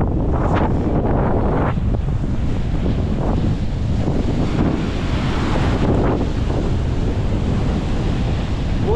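Strong gusts from Typhoon Nando sweep past a river in Nasugbu, Batangas, roaring steadily and buffeting the microphone in a loud, unbroken rush with no voices.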